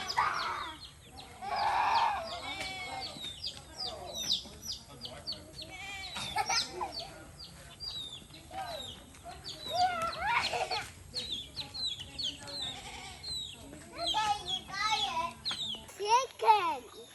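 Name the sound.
chickens clucking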